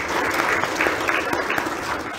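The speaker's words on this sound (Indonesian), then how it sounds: "Beri tepuk tangan buat Tuhan." Worshippers in a Christmas church service applaud for God in a short, continuous burst of many hands clapping together, fairly loud and unbroken.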